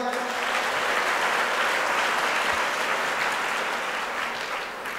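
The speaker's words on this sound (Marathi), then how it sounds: "मनस्वी जोरदार टाळ्या होऊ द्या" A crowd applauds steadily at a birthday celebration event, dense continuous clapping lasting throughout and tapering slightly at the end, fairly loud and enveloping with no talk over it.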